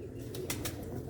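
Pigeons on a rooftop coo softly, with a couple of short low throaty calls and a light flutter heard faintly over a quiet, steady background.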